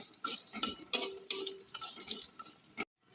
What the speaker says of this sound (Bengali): এবার আমি বড়িগুলোকে একটু ভেজে তুলে রাখবো।